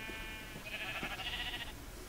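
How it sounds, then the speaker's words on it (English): A sheep bleats once in a blocky sandbox video game, a drawn-out wavering cry over a low background hum, moderately close and alone without talk. "let's go shear some more sheep"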